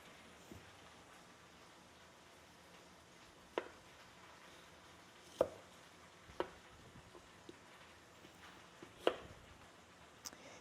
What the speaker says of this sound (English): when I'm doing onion like this to go roasted with my vegetables, I just kind of chop it into chunks